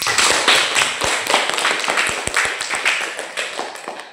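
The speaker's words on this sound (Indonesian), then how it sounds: "Coba tepuk tangan untuk Hafiz" Students in an Indonesian classroom clap for a classmate, producing scattered, uneven claps that start loud and sharp and then thin out gradually.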